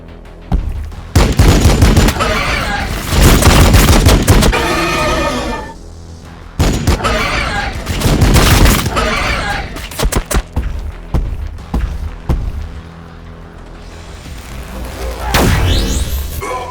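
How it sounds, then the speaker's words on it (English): Bursts of rapid gunfire erupt in a Warhammer Battlesector video game cutscene, loud clustered volleys separated by brief pauses, with a later burst rising near the end. "Taking fire!"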